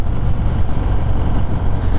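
A 2021 Harley-Davidson Fat Boy engine idles at low RPM, a loud, close, deep rumbling throb with a steady lumpy pulse and no talking.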